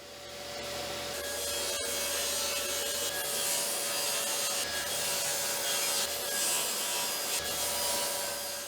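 Saw cutting through 3/4 inch plywood parts, a continuous loud rasping, buzzing cut with a steady high tone running through it and slight swells in intensity, no voices.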